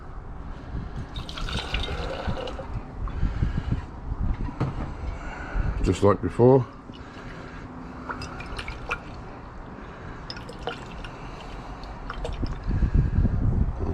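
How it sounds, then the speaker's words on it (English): Hot water pours and trickles over gold-recovery residue from RAM chips during a rinse, with liquid splashing and dripping beneath steady close talk and a brief louder burst of sloshing midway. "So I'm going to give them some rinses of hot water."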